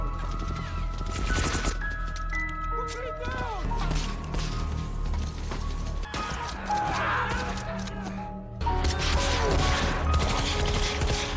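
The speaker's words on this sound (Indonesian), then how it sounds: "Terjadilah baku tembak jarak dekat." A close-range gunfight with scattered shots, bursts and mechanical clatter, mixed with crashes and battle noise, heard intermittently under a narrator's voice.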